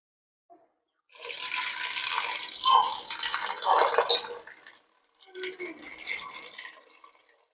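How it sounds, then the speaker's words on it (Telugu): Water is poured into a pot of washed toor dal for boiling, making a splashing, gurgling stream in uneven bursts, with a short pause before a final trickle of pours. "ఉడకడానికి తగినన్ని నీళ్ళు పోసుకోవాలి."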